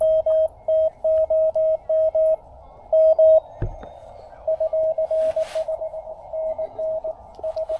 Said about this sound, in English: Hear that fading? That's because the ionosphere's changing.